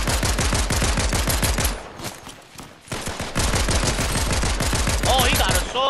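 Rapid automatic gunfire in Fortnite hammers out in fast, loud, evenly spaced shots, stops briefly for a quieter moment, then resumes in another long burst with some game effects near the end.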